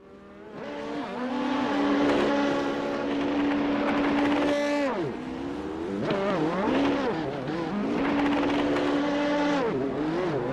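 Race car in a sportscar series video game at Montreal, cutting across the grass at high speed, its engine loud and continuous with rising and falling pitch as it shifts and revs.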